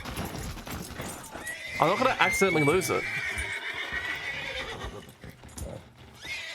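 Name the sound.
horse neighing and hooves in a video game (GoldRushRP)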